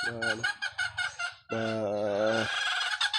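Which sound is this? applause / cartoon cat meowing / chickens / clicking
chickens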